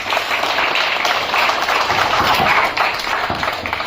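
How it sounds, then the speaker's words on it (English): Steady applause from a crowd, a dense wash of clapping that continues for several seconds without a break. "Give a round of applause for Haadi."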